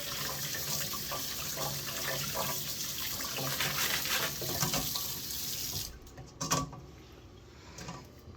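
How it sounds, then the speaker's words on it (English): Tumbled rocks rinsed under a running tap, a steady close splashing rush of water for several seconds, then the flow stops and a few wet clacks and knocks of stones follow. "So let's rinse them off and see what they look like."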